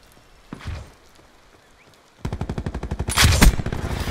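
Gunfire in the Call of Duty Black Ops 4 video game: a single shot, a quiet pause, then a loud rapid automatic burst that rises to a heavy peak near the end.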